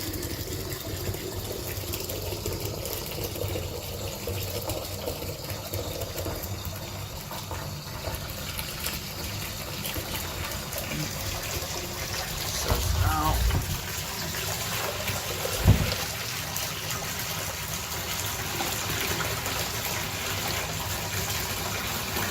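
Rinse water runs steadily out of a batch of wet-tumbled brass cartridge cases, a constant gushing trickle with a couple of dull clunks partway through.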